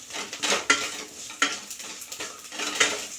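Mustard and fenugreek seeds stir-fried in a pan, heard as rhythmic scraping strokes about every half second over a light crackle of frying, close and fairly loud.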